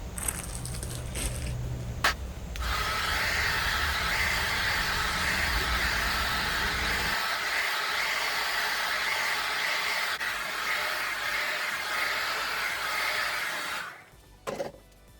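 Hair dryer blowing out hair, a loud steady roar that starts after a few seconds of rustling, holds for about ten seconds, then cuts off near the end.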